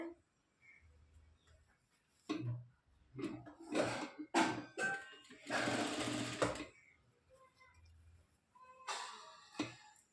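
A sewing machine stitching a blouse runs in several loud bursts of rapid mechanical whirring, stopping and starting between runs, heard close up with a faint low hum in the pauses.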